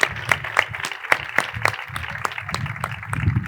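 Applause from a literary festival audience greeting a music duo, a handful of scattered individual claps spaced irregularly rather than a full ovation, with a low murmur underneath.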